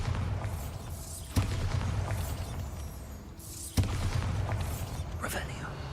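Bombarda spell explosions in the Hogwarts Legacy video game, two sharp booming blasts a couple of seconds apart over a rumbling magical ambience with swirling, whooshing tones.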